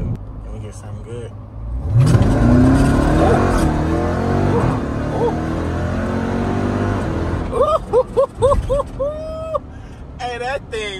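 A black Dodge Hellcat launches hard off the line at a drag strip, its engine climbing in pitch to a loud roar, followed by sharp revving bursts while people talk over it.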